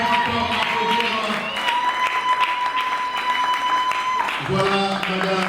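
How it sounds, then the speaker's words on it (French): Audience applause at a theatre group's third-anniversary celebration, a steady wash of clapping from a crowd lasting throughout, with a sustained tone and some voices mixed in underneath. "nous pouvons encore applaudir."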